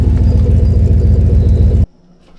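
An old, cheaply bought marketplace van engine idles loudly and close by with a steady low rumble and rhythmic throb, then cuts off abruptly near the end, leaving faint background noise.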